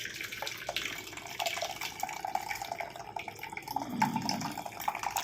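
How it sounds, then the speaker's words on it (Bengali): Butterfly pea flower tea streams through a strainer, giving a continuous soft pouring and trickling of liquid with small drips, close and fairly quiet with no speech. "একটা ছাঁকনির সাহায্যে এটাকে ছেঁকে নিলাম।"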